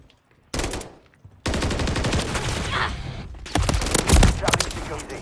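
In Modern Warfare 3, a loud burst of rapid automatic gunfire breaks off, then comes back as sustained firing with heavier shots near the end. Voices from the game sound partly mixed into the gunfire.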